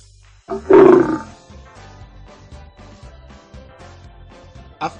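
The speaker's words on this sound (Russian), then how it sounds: "Лев." A lion roar in the Preschool Toolkin children's learning game bursts in loud and close for about half a second, then light bouncy game music plays on quietly, with a short loud accent near the end and no voices.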